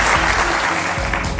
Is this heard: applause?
yes